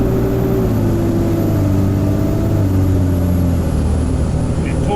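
Cummins-swapped 6.4 Ford F-series truck in tow mode pulling hard under acceleration, a loud steady diesel drone with rising engine harmonics, heard close from inside the cab and no talking.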